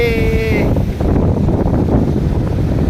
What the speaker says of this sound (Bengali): এই দেখো, আরে বাপরে হাওয়া চলছে